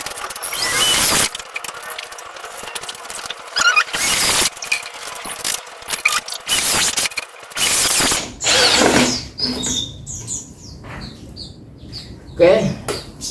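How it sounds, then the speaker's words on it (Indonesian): A power drill whines in several bursts while drilling holes for a simple water filter, starting and stopping repeatedly, with rattling and scraping between runs and some voices murmuring underneath. "Ini kita lubangin"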